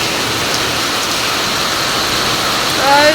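Steady rain falls on a farm shed and its parked vehicle, a loud, continuous wash of hiss that swells slightly near the end, where a faint tonal sound briefly appears.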